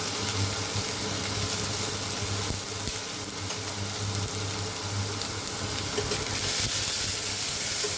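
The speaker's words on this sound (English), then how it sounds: "we will add our onion, chopped onion" Chopped onion frying in about a teaspoon of oil for a Goan seabass curry, a steady close broadband sizzle and hiss with a low hum underneath, continuous and fairly even throughout without any talk.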